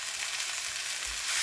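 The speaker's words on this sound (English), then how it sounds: "I'm just stirring frying this for a couple minutes." Steady crackling sizzle of tandoori chicken curry frying in a pan, close and even, with faint scraping hints of stirring.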